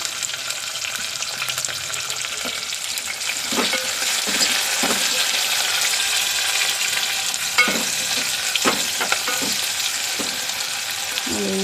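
Onions frying in hot oil for egg biryani, a continuous bright sizzle broken by a few louder scraping stirs of a spatula in the pan, close and steady throughout.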